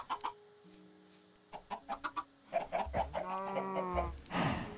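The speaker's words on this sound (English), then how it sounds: "Come on, get moving, stupid chickens." Chickens in the video game Minecraft clucking in a quick run of short, close calls, some piled up and overlapping, alone with no talk over them.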